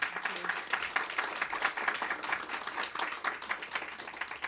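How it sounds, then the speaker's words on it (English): A workshop audience applauds a speaker, with dense, lively clapping from many hands that holds steady at fairly close range throughout. "Let's give Sarah another applause."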